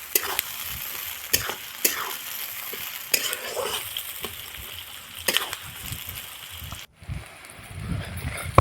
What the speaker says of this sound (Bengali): পেঁয়াজগুলো হালকা ভাজা ভাজা হয়ে এসছে।